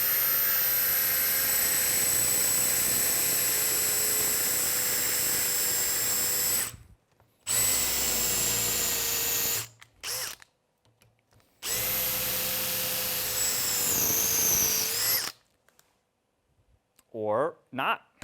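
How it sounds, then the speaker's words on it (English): A high-pitched power drill whines steadily in long bursts, stopping and restarting several times with brief pauses between runs. "I think this drill bit's a lot better."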